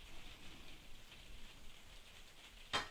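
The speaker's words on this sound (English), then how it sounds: "can you hear the sound of rain?" Steady rain falls outside a home kitchen during Kung Pao chicken prep, a soft continuous hiss throughout, capped by a brief louder clatter near the end.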